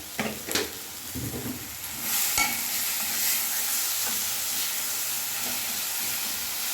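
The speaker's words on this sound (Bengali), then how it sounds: "গ্যাসের ফ্লেম মিডিয়ামে রেখে 3-4 মিনিট আমি কষে নেব।" Spices being fried and stirred in a pan over a medium gas flame for a shol and foli fish recipe, with a few scraping strokes at first and then a steady, close, hissing sizzle, no talk.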